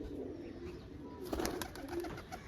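Pigeons cooing softly with some fluttery bird sounds, fairly close, over quiet background noise.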